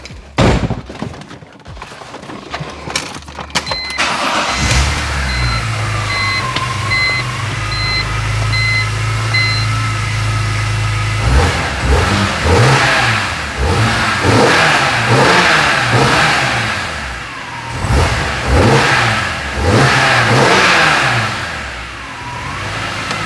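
A BMW E46 M3 fitted with a K&N cold air intake revs in a garage, with a steady idle, then repeated sharp throttle blips rising and falling in quick succession, loud and close, with a few electronic beeps early on.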